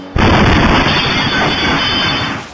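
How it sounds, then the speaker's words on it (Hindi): A powerful bomb blast goes off inside the Nowgam police station in Srinagar at night: a sudden loud boom, then a long roaring rumble that lingers for over two seconds before fading. "ये ब्लास्ट नौगाम पुलिस स्टेशन के अंदर हुआ, जिसकी आवाज काफी दूर तक सुनाई दी"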